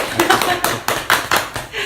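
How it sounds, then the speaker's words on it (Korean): A few people in a small studio clap in separate, uneven bursts, about six sharp close claps with short gaps between them, mixed with light laughter and talk. "박수 한번 치고 들어갈까요?"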